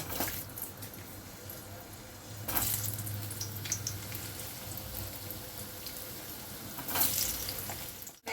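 Potato pieces frying in hot oil in a kadai for a drumstick and potato curry: a steady, close sizzle with louder bursts of stirring and spattering around the start, the middle and near the end.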